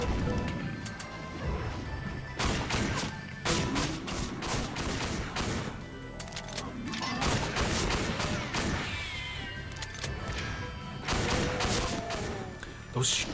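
Gunfire in the video game Doom: repeated loud bursts of rapid shots and impacts, mixed with monster growls and game effects, close and dense with brief lulls between volleys.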